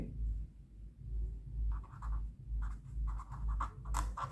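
Pen writing on paper at a desk during a leather bag costing explanation, soft scratchy strokes in short bursts, close and quiet, with no voices.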